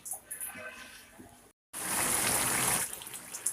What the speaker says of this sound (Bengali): এই বড় পাতারটা ধুতে হবে